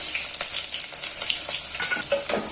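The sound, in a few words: onions frying in hot oil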